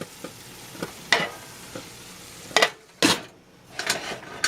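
A lid is set onto a pan where onions and garlic are frying, giving sharp metallic clanks and scrapes over a soft, continuous sizzle.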